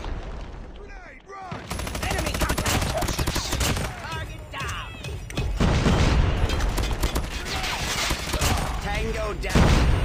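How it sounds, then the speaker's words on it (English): Dense gunfire and explosive bursts from a Call of Duty Mobile match, loud and continuous with heavy low booms around a grenade blast, mixed with short in-game voice callouts. "Grenade, run!"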